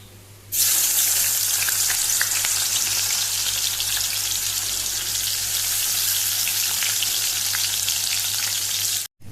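Garlic hits hot oil for Goan-style dry masala clams and sets off a sudden, loud, close sizzle. The sizzle holds evenly for about nine seconds, then stops abruptly.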